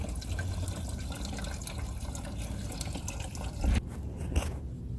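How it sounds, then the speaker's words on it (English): Water is poured from a bucket to top up a mixture, giving a continuous splashing, gurgling flow that ends in a few louder sloshes and drips. "So we're pouring the entire bucket already, and then now we are top it up again."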